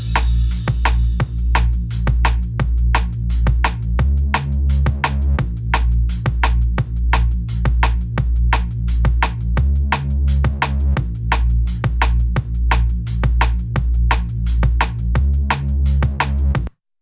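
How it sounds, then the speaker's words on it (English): Heavy synth bass thickened with multi-band distortion on its mid band, driving a steady looping pattern with punchy repeated hits and a deep sub underneath, loud and continuous for about sixteen seconds before stopping abruptly. "I've also added some multi-band distortion using FabFilter Saturn to kind of push the drive on the mid band on the bass"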